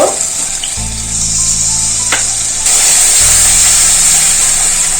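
Water is poured into a pan of frying chili powder, coriander, cumin, ginger-garlic paste and green chilies. A loud steady hiss and sizzle continues with a low hum in the background.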